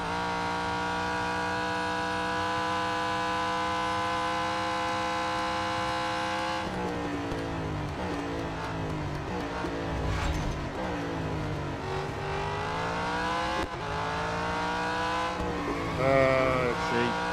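A race car in the mobile racing game Real Racing 3 drones with a steady engine tone, then shifts and sweeps through rising and falling revs as it drives on, continuous and fairly loud without pause.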